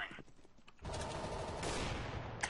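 Gunfire in the video game CS:GO, with a faint burst of shots giving way to a sudden loud, dense rattle of rapid fire that keeps going, with a sharp crack near the end.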